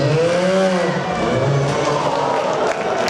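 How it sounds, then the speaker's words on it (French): An indoor trial motorcycle revs hard in an arena, its engine note swelling and dipping over a loud crowd-filled roar, with a commentator talking over it. "vous allez entendre la moto, le bruit qu'elle va faire"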